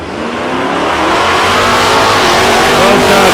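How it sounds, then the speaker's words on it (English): Race cars in qualifying at South Coast Raceway, a Valiant Charger and a little LC Torana, accelerating hard: a loud, continuous engine roar rising in pitch over a few seconds, close by with no voices. "Couple of really nice looking cars out there, the Valiant and the little LC Tirana."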